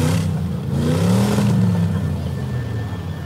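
A demolition derby car's engine runs at a county fair, a steady loud rumble with a brief rising rev near the start, continuing near and unbroken throughout.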